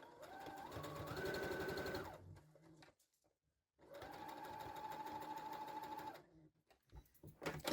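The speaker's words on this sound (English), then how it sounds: "You won't be able to understitch right into your front corner, so just go as far as you can." A sewing machine understitches the facing of a tie-front blouse around the neckline toward the front corner, running in two steady, close-up bursts of rapid stitching separated by a short pause.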